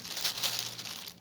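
Soft crinkling of thin plastic, steady rustling for about a second, close by and quiet.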